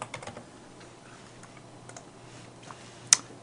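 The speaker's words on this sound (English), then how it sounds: "And then I'm going to type in my password" A password is typed on a computer keyboard, a quick run of light key clicks in uneven bursts close to the mic, ending in a sharper single tap, over faint steady hum with no talking.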